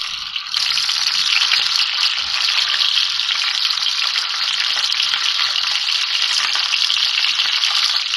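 Chandan kababs bound with bread and egg frying in a pan, a loud, steady hiss of sizzling oil that starts abruptly and holds evenly for several seconds, with faint rattles underneath.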